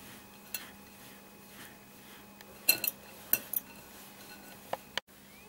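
Spoon scraping and clinking in a pan while mawa and sesame laddoo mixture is stirred, with a few sharp metallic knocks spaced over several seconds and a quiet background between.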